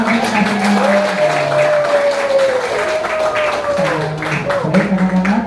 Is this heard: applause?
yes